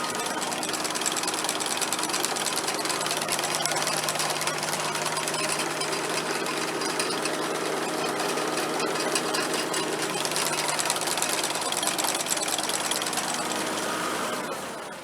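A sickle mower runs steadily at about 1,500 RPM, a loud continuous mechanical chatter and engine drone that holds constant, close to the microphone, before easing slightly at the end.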